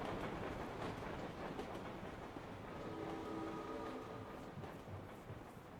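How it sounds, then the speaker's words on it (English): A train in the video game Shadow Hearts rumbles steadily as it departs, with continuous rolling wheel noise and a faint whistle-like tone partway through, no voices. "Oh, I guess the train left."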